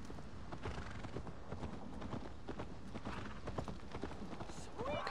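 Horse hooves clip-clop steadily in the video game Assassin's Creed Valhalla, a continuous patter of steps under ambient game sound and music, with a brief rising whinny-like call near the end.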